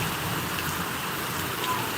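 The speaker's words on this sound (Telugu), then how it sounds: "వర్షం చూసుకోవచ్చు ఇది దారుణంగా పడుతుంది అసలు" Heavy rain pours down steadily in Mulkanur, a dense hiss of drops on surfaces with no voices.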